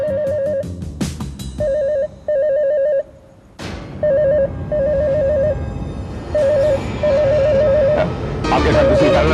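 A telephone rings in repeated electronic trilling bursts, loud and close, with short gaps and background clatter between rings and a busier jumble of sound at the end.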